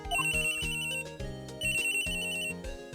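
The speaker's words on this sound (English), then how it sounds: "The phone is ringing." A telephone rings in Phoenix Wright: Ace Attorney, a synthesized ringtone with a repeating melodic pattern heard in two loud bursts separated by a short pause, with no speech.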